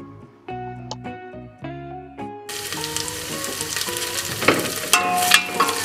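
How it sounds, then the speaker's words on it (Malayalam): Onions frying in ghee with cloves and whole spices for a fish dum biryani, a steady close sizzle that swells louder after the first couple of seconds, with scattered clinks and scraping in the pan. "നമ്മുടെ സവാള ഇപ്പോൾ ഇവിടെ ഒരുവിധം മൂത്ത് വന്നിട്ടുണ്ട്"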